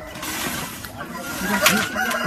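Chickens raised on soil at a farm cluck and squawk close by in a steady, busy chorus, with a person speaking softly among them.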